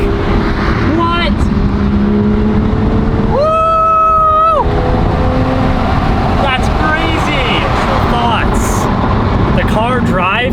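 A stock Porsche GTS Street Cup race car drives with a loud, gnarly engine, revving rises and shifts heard from inside the cabin, while people talk excitedly over the engine noise.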